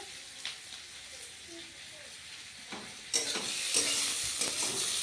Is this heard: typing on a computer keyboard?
no